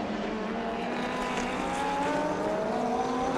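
GT1 race cars brake into the turn 6 hairpin at the Portimao circuit in Portugal during qualifying, engines droning steadily at a distance with a continuous mechanical roar and no voices.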